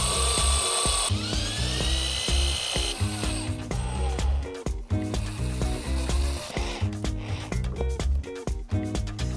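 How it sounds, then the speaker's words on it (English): A power drill whirring in short repeated bursts while pre-drilling screw holes for a plate on a DIY stool, its motor whine rising and dropping with clicks and thumps as holes are bored. "Now I'm going to quickly pre-drill the holes and attach the plate with screws"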